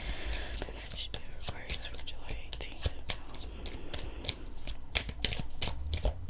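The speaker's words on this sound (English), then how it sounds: "that clicking noise is me shuffling this deck." A tarot deck shuffled with a rapid, steady clicking and riffling, close to the ear, over a soft, continuous whispery hiss.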